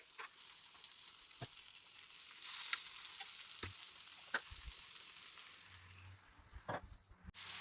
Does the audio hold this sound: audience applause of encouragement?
no